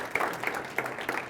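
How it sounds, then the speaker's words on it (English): An audience at a talk on global workforce opportunities claps in a short, sparse burst, a few rhythmic pulses of hand claps over the room's murmur. "Let's give Patrice a round of applause."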